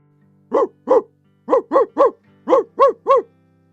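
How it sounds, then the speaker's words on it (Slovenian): A dog barks eight times in quick, excited bursts of two and three, close and loud, with brief pauses between groups. "Pritekel je pes in razburjeno zalajal."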